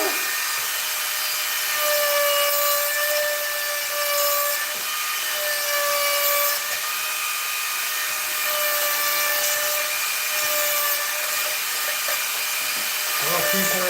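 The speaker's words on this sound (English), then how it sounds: "the Dremel brand is definitely better for rotary tools than the Tacroid" A Dremel rotary tool runs nonstop at high speed, giving a loud, steady, whining buzz with a slight wavering in pitch from start to finish.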